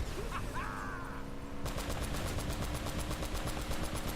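A heavy machine gun in Uncharted: Drake's Fortune opens up after a short lead-in of other game sounds, firing a rapid, steady stream of loud, evenly spaced shots that continue without pause to the end.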